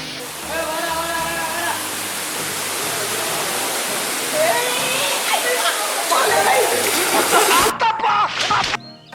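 The main falls of Tada waterfall roar with a loud, steady broadband rush of falling water, close and continuous, while people talk over it throughout.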